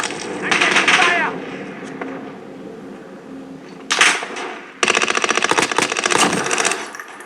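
Automatic gunfire from Call of Duty Modern Warfare, heard as a dense rapid burst in the second half, preceded by shorter bursts and in-game voices calling out over the battle noise.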